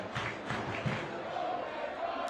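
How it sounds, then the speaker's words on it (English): A stadium crowd at a U.S. Open Cup soccer match between Seattle Sounders and San Diego Loyal roars steadily in the distance, with a few louder shouts rising out of the continuous noise. "The crowd here shows its support for Vargas,"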